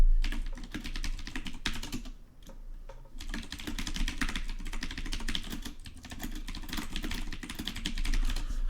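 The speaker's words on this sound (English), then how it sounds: "So I'll type these." Rapid typing on a computer keyboard, close and crisp, dense clusters of key clicks with a brief pause near the two-second mark before the steady tapping resumes.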